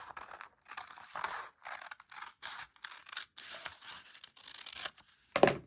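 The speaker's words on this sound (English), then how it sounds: "I'm going to take my paper scissors and crummy paper scissors, and I'm going to cut" Crummy paper scissors snip through a sheet of paper along a drawn line for a pennant, a series of short, close crisp cuts broken by brief pauses, with one louder snip at the end.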